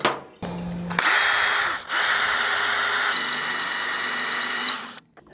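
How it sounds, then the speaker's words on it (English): Power drill boring a hole while a service truck is being set up, running loud and steady for about four seconds with a brief dip partway through, then stopping. "so let's just drill a hole."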